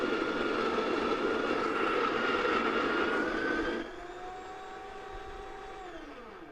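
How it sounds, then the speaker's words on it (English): Coffee beans ground in an electric grinder beside a Cuisinart PurePrecision pour-over drip coffee maker, a loud continuous whirring roar that drops in pitch and volume partway through, then winds down with a falling motor tone. "Don't have my grinder set quite right. I need to adjust the time on the grind."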